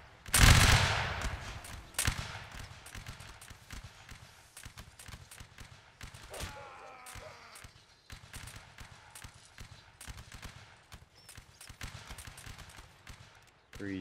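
Musket volleys crackle in a Napoleonic Wars line battle game, a loud burst of massed fire opening the passage, then scattered shots and clattering at irregular intervals, with faint voices underneath.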